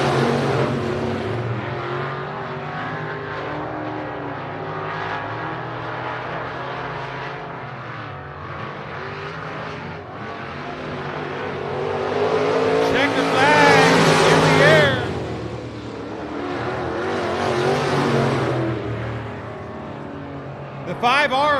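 Race cars roaring past to finish a heat race at I-37 Speedway, engines droning loud and steady with a swelling pass-by near the end, under an announcer's running commentary.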